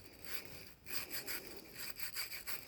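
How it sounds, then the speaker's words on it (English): A small brush scrubs a Briggs & Stratton engine part from an Ariens Deluxe 28, making quiet, rhythmic back-and-forth scratching strokes close up. "Get a little brush and scrub it with too."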